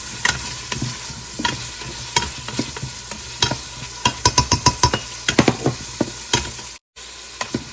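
Potatoes sautéing in a pan, a bright sizzle with frequent sharp scrapes and clacks of a utensil, bursting into a quick run of strokes midway, then a brief dropout near the end.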